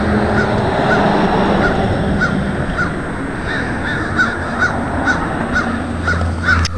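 Crow cawing repeatedly in a steady series of short calls over a loud, constant outdoor background hum, with the bird fairly close.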